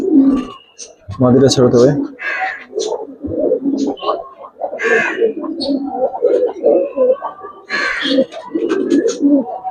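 Giribaz pigeons cooing up close in a loft, giving repeated throaty, rolling coos in a loud, continuous run while someone talks over them.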